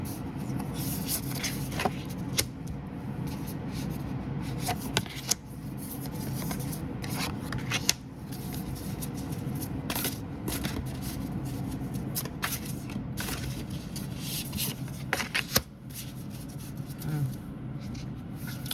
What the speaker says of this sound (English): I shuffled the deck